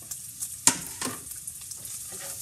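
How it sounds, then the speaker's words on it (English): Chopped onion frying in hot bacon fat, a close sizzle broken by scraping stirs and a few sharp pops and clinks, with no talking. "I'm gonna let it cook with the same fat that the bacon is releasing."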